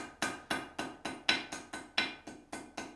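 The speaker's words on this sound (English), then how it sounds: "I've got my hammer at the same angle of the blade that I'm wanting to do" A blacksmith hammers a heated steel blade, forging the point of a letter opener: about eleven evenly spaced, ringing metallic blows close by, each decaying quickly before the next.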